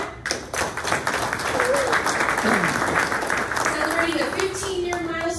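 Applause at a military salute ceremony for business milestones, a room of people clapping in a steady, moderately loud patter that fades slightly toward the end, with faint talk underneath.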